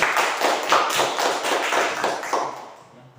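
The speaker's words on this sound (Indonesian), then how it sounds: "Tepuk tangan buat siapa ini?" Students in a classroom clap together, a fairly loud, ragged burst of hand claps that fades out over the last half second.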